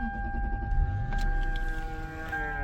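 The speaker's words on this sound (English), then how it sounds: "I'm gonna start the car." A 2004 Lexus LS 430's V8 catches and settles into a smooth idle, its low rumble steady under a high, constant electronic chime.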